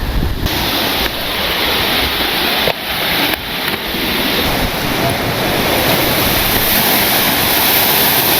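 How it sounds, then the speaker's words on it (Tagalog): Bulalakaw Falls, a waterfall in the Cordillera, gives off a loud, steady broadband roar of rushing water with wind buffeting the microphone, continuous and close throughout. "Ang Bulalakaw Falls."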